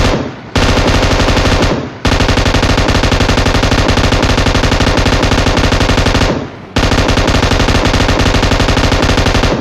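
Rapid automatic gunfire in a battle royale video game, loud sustained bursts of machine-gun fire broken by two brief pauses.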